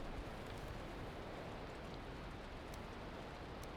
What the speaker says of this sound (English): I hate the rain so much.